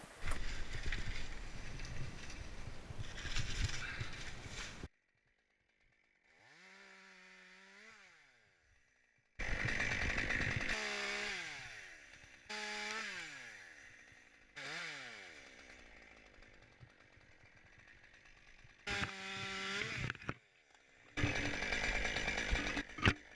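Chainsaw cutting a black oak branch into 16-inch lengths during a tree removal over a shed, heard as repeated loud bursts of buzzing cutting separated by idling lulls, with engine revs rising and falling between cuts.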